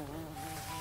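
Cartoon bee buzzing with a short, steady droning hum, fairly faint and heard alone.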